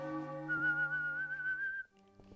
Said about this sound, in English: it's semitones that I can whistle together